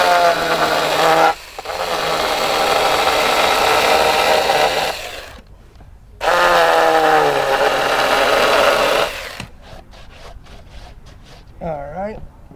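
A chainsaw carving letters into a wooden welcome sign with a vintage look, heard as two long loud roaring cuts broken by short pauses, then the engine idles and sputters down in choppy bursts near the end.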